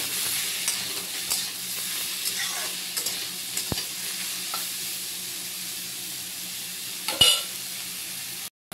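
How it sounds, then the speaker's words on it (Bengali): Vegetables sizzle steadily in a hot frying pan while a spatula stirs and scrapes now and then, a close, continuous frying hiss with a few sharp clinks and no talking. "খুন্তিটা একটু জল ছিল তাই এত ছিটকাচ্ছে।"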